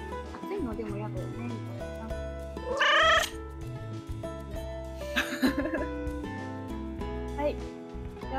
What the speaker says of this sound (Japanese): 猫はあったかい方がいいのかな。